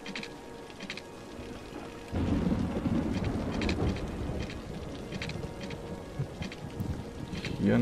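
Thunder rumbles from a lightning strike in the city-building game Cities: Skylines, a loud low roll breaking in after a quieter stretch and carrying on under steady rain and wind.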